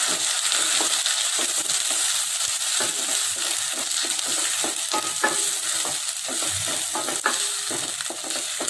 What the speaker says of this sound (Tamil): நல்லா வதக்கிட்டேன்